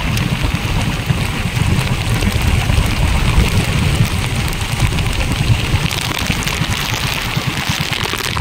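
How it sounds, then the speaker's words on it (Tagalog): Heavy rain pours onto a small fishing boat at sea off the Philippines, a dense, steady roar of droplets with wind buffeting and a low engine rumble underneath throughout. "Lakas ang ulan."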